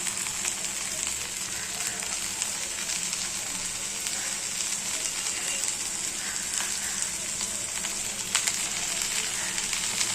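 Cut okra sizzles steadily in a hot pan, a dense, even crackle that is close and fairly loud and runs without a break, with no voices over it.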